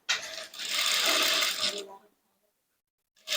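Sewing machine stitching a princess cut blouse, one close burst of fast whirring needle motion lasting under two seconds, then silence, then the motor starting again at the very end.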